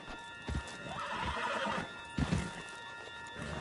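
A horse in the game Red Dead Redemption 2 gives two loud, close neighs while hoofbeats clop underneath, with steady outdoor ambience between the calls.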